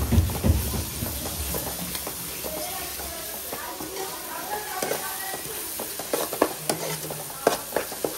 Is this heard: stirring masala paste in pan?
yes